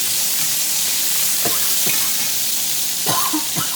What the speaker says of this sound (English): Just give that good saute.